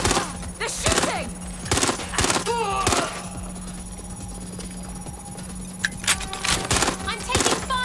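Enemy gunfire in the video game Watch Dogs Legion cracks in repeated sharp bursts, some rapid and clustered, over a steady low hum, with a player's voice briefly heard between shots.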